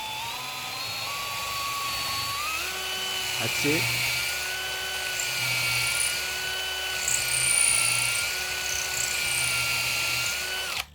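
A cordless drill whines steadily while boring, its pitch shifting as it works through the material, with a brief spoken remark partway through.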